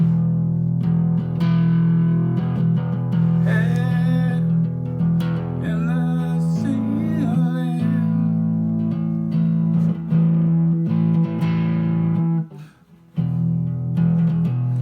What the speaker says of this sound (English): You're just playing 2 notes, but with distortion it sounds good.